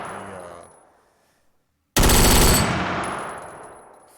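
A rifle fires in a Unity VR game, a single loud close burst that cuts in sharply after a near silence and then decays slowly with a ringing tail.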